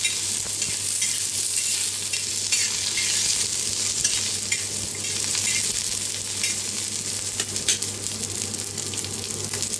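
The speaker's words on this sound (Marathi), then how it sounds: "3 हिरव्या मिरच्या मोडून घेतल्या होत्या, त्याला मी भाजून घेऊया" Green chilies, three of them broken into pieces, roasting in a pan with cashews, ginger and garlic, giving a steady, close sizzle and frying crackle with occasional stirring scrapes throughout, no voices.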